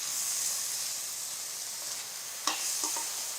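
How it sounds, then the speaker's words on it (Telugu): Rice for a sweet saffron pulao sizzles and hisses steadily in a pan over low heat, with a few soft stirring scrapes near the end as saffron-soaked milk is added. "కొద్దిగా పాలు పోస్తూ కలిసేలాగా వేయించుకోవాలి"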